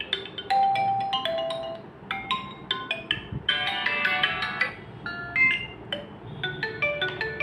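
A Redmi 9 Activ smartphone plays its MI ringtone, a bright melodic sequence of chiming electronic tones in short repeating phrases, clear and close with no talk over it.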